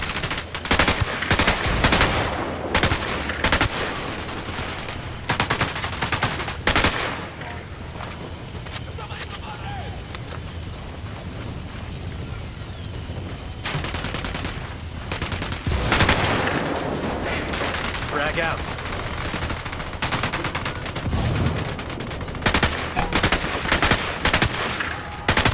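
Gunfire in the video game Ghost Recon Wildlands, with dense, loud bursts of automatic fire and overlapping shots that come in waves over a steady background, mixed with occasional talk.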